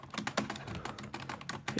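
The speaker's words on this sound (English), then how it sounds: "when it gets intense, you guys are gonna be able to hear what's going on my keyboard" Rapid, steady clicking of a computer keyboard typed on close up during a Minecraft Survival Games match, with dense keystrokes and no talking.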